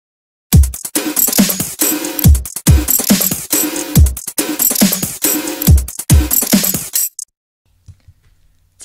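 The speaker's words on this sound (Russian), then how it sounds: "Для большей наглядности я уже добавил дабстеповую ритм-секцию." Dubstep drum rhythm section built in Native Instruments Massive, with heavy kicks and snares in a steady loud pattern for about six seconds before stopping abruptly into near silence.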